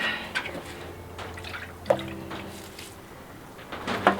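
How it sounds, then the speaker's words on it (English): Water swirled and swished around in a bowl used as a waterer for a small flock of farm chickens, giving soft, low-level sloshes and drips with a few sharper splashes near the start, middle and end. "I have enough water here today that I can give that a good swirl and swish it"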